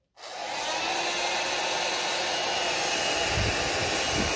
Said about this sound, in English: So you just take the hairdryer,